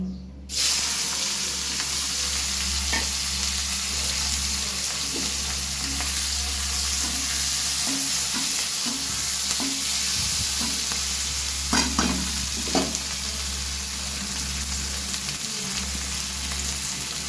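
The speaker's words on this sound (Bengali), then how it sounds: "এবার ওই তেলেই পেঁয়াজ কুচি দিয়ে দিচ্ছি।" Chopped onion goes into hot oil left from frying fish for a spicy fish curry and fries with a steady, loud sizzle, with occasional soft stirring clicks and spoon scrapes throughout.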